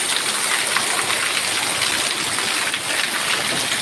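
Heavy rain pours steadily onto a coconut grove in the Konaseema countryside, a dense, continuous hiss of drops on leaves and ground, close and loud, with no voices.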